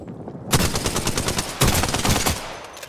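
Rapid bursts of automatic gunfire in Apex Legends erupt after a quiet start, loud and near, with a second dense volley around the midpoint and no talk.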